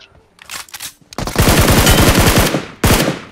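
Rapid shotgun and automatic gunfire in an online shooter game, with a quieter patch of shots followed by a loud, sustained burst of closely spaced blasts and then one more heavy volley, all close and without speech.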